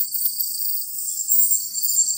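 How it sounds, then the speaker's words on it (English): A steady, high-pitched chorus of crickets chirping continuously, with no other sounds. "if you guessed crickets, then you're exactly right"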